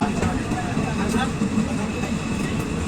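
The Teesta Torsha Express rolls into New Farakka Junction with a steady, loud rumble of rail and carriage noise throughout, and voices can be heard beneath it.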